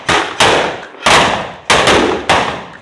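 Diwali firecrackers burst nearby, with five loud sharp bangs at irregular intervals, each leaving a short decaying crackle.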